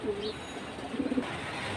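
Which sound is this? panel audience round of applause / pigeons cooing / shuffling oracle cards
pigeons cooing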